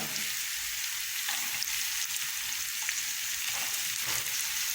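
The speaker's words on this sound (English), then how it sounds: "And then I'll just stir this in and add my spinach next." Shan masala and garam masala stirred into frying aromatics hiss steadily with a bright sizzle, marked by a few soft stirring strokes, close and without talk.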